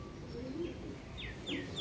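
Pigeons kept in a loft, heard as a few soft, short chirping and cooing calls close by over a low, steady background hum.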